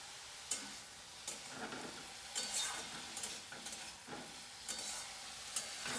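Raw chickpeas fry lightly in a home kitchen pan, giving a soft steady sizzle broken by scattered clicks and scrapes of stirring, fairly faint and without talk.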